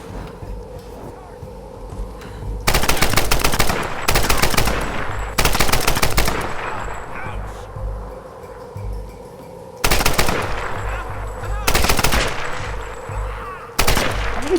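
Video game gunfire comes in several long, loud bursts of rapid automatic fire, separated by quieter stretches of background noise.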